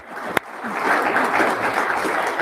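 A crowd at a school board of trustees meeting claps in steady, sustained applause after one sharp early clap, fairly loud and close, with no talk over it.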